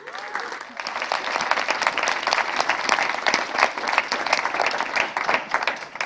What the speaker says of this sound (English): Please, a big applause for Shema